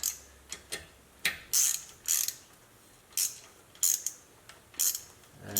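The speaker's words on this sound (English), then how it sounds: "then I'll torque these down to 15 foot-pounds" Torque wrench tightening steering bolts on a Jeep Gladiator or Wrangler, heard as a series of quiet, close ratcheting clicks in short bursts with brief gaps between them.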